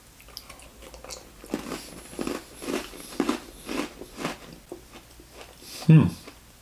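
Maple Creme Oreo cookies are bitten and chewed close to the mic, with a run of rhythmic crunchy chews growing louder toward a sharp final crunch, and no talking over them.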